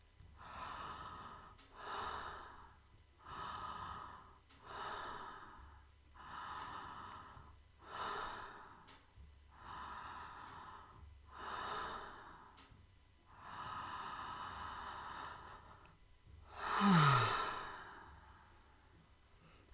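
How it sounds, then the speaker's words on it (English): Five or so connected mouth breaths in and out, each a soft rushing draw and release in a steady rhythm, close and fairly quiet, ending with a louder exhale; no talking. "So I'm just going to do 5 connected breaths, count them out on my hand, in and out through the mouth."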